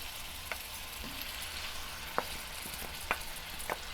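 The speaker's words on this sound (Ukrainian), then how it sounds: "Тепер всипаю сюди печінку." Chicken liver added to a frying pan, with a soft continuous sizzle and a few faint clicks of stirring over quiet background, no talk.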